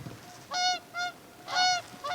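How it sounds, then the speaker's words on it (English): Geese honking in Iceland, four clear nasal honks in an uneven rhythm, fairly close and loud over a quiet outdoor background. "Geese."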